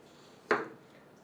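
A kitchen knife slicing a carrot into thin julienne strips makes a single short, crisp tap of the blade striking the cutting board, alone against near silence.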